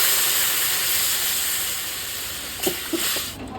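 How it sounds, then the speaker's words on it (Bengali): Water is poured into a pan of spiced potatoes sautéed with green chilli, cumin paste and ginger, a steady loud hiss of steam and sizzle that fades slightly, then a couple of soft clinks near the end. "আলুটা কষানো হয়ে গেছে এবার আমি জল ঢেলে দেবো"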